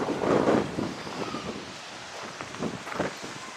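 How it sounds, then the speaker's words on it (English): Breezy wind gusts outdoors beside an old country church, buffeting the microphone with a low rumbling rush that swells early, then settles into softer gusts and rustling, with no talk. "It's very breezy today."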